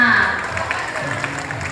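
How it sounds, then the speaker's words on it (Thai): Audience applause after a line dance performance in Pak Phanang, a burst of clapping that fades quickly, with a voice speaking over it. "ปรบมืออีกครั้งนะคะสำหรับชุดการแสดงนี้ค่ะ"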